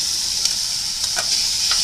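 Meat added to a frying pan sizzles steadily with a bright, crackling hiss, broken by a few soft stirring scrapes, close and alone.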